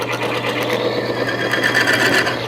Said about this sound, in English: When I start this running and I push down on this torque wrench, the two metal surfaces come into contact and they will then make a noise.